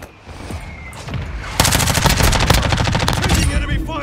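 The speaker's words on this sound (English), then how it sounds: "Taking enemy fire!" Rapid automatic gunfire in Call of Duty: Modern Warfare, a quieter muffled opening giving way to dense, loud, close bursts of rattling shots that run for over two seconds before tapering.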